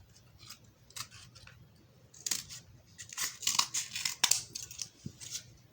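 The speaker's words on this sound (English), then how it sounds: "I'll have to trim this piece" Scissors snipping through a piece of cardboard in a craft session, a series of crisp, close cuts coming in irregular bursts that grow louder and denser toward the middle, with no talking.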